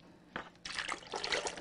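Water poured into a bowl to start a bread dough, a soft splash and steady trickle that begins after a brief sound and runs on continuously, close and moderately loud.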